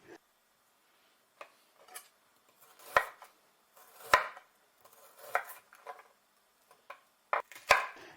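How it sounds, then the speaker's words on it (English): Sharp knife chops through fresh ginger on a board for a braised pork dinner, cutting about 5 mm slices. Irregular crisp strikes come one after another with quiet gaps, some louder thuds landing with a hard tap, and no talking. "Ginger sliced, about 5 millimeters, and cut 4 slices is enough"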